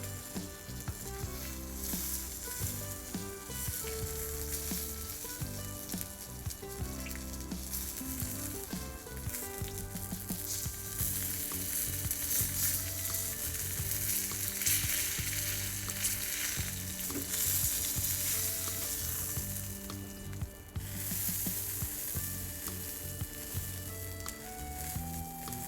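Chicken pieces frying skin side down in a pan, a loud, steady, close sizzle lasting the whole stretch with faint movement and spattering.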